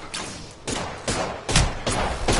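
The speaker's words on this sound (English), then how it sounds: "there's a boy shooting at you" Gunfire in the battle-royale game Apex Legends: several loud, sharp bursts of shots land about every half second, each with a booming low-end thump, close and unbroken by talk.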